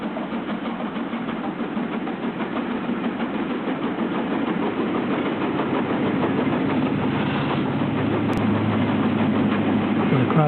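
A steam locomotive sits in Somerset with a steady, low mechanical rumble and hiss that holds evenly and grows slightly fuller toward the end, with no distinct exhaust beats standing out.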